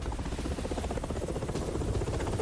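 Ka-52 attack helicopter during a Russian air strike on Donetsk: a continuous low, rhythmic rotor thump and engine drone with broadband noise, steady and fairly loud throughout, with no voices.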